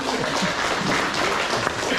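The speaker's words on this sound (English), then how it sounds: "let's have a round of applause." An audience at a community meetup claps in a steady, dense patter of many hands, moderately loud throughout, with no clear speech on top.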